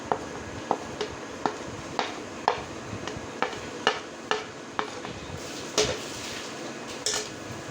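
A spoon clinks rhythmically against a bowl while mixing chickpea chana chaat with cucumber, black pepper and chaat masala, with regular sharp taps about every half second, close and fairly quiet with no talking.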